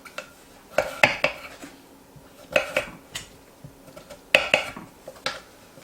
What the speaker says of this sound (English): cut to pieces like this